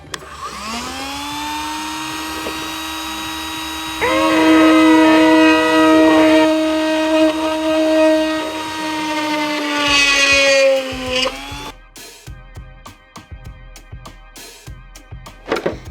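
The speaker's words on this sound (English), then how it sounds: "for the sake of saving time, I'm gonna do this with the Dremel" A Dremel rotary tool drills holes in plastic fender flares for a 1993 Ford Ranger, a steady high-pitched whine running close and loud for about eleven seconds with a rise in intensity partway through, then spinning down and stopping, followed by faint handling noises.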